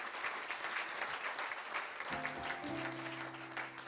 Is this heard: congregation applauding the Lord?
yes